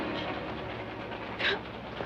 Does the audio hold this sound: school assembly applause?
no